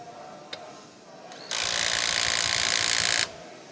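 A Milwaukee M18 Fuel controlled torque impact wrench set to 100 foot-pounds runs in one loud, continuous burst of hammering for under two seconds, set between a few faint clicks and quiet.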